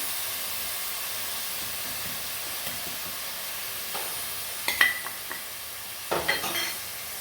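Turmeric and spices stirred in a pan, with a soft steady sizzle and steam hiss underneath and a few scraping stirs near the end, no talking.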